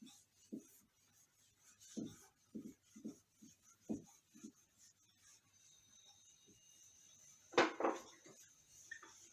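An eraser rubs writing off a board during a physics problem lesson in a series of short scraping strokes, faint and close with gaps between them, then one louder, harsher swipe near the end.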